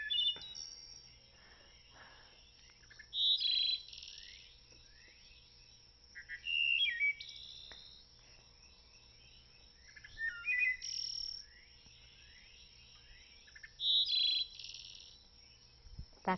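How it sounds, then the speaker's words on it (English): Clear, flutelike wood thrush phrases repeat every few seconds over a quiet background hum, each a short bright burst of rising and falling notes. "That's the song of the wood thrush,"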